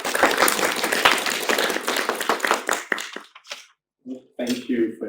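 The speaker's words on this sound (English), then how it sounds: "clap to welcome him" Audience applauding to welcome a speaker at a lecture, dense clapping from a crowd that gradually thins and fades to a few scattered claps and near silence.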